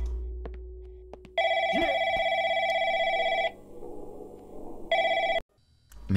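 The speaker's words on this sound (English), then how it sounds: "I follow the phone noise, right?" Telephone bell ringing inside an indie horror video game, two loud sustained rings separated by a pause, with faint game ambience and no talk over them.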